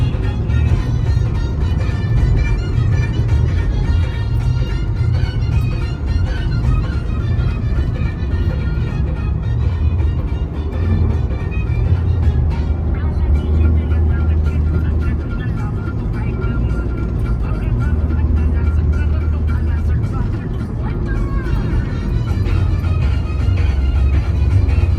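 A car cruising on a good highway from Malad, Mumbai toward Indapur on the way to Konkan, a loud, continuous low road and engine rumble heard from inside the vehicle with no letup.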